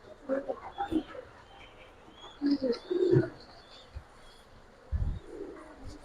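Kaldom pigeons at a bird sale coo in short, soft throaty bursts, several calls close together and then another a few seconds later, quiet and close, with faint chirps and a voice in the background.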